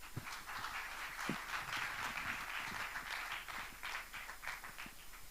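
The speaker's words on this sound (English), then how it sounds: "giving your biggest round of applause" Applause at an MoU signing ceremony between Anantara Energy Holdings and Countrywide Hydrogen, a soft, somewhat distant patter of many hands with a few louder nearby claps, steady and quiet throughout.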